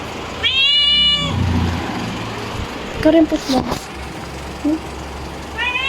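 A cat lets out a drawn-out meow close by, then a shorter one near the end, with a person talking in between.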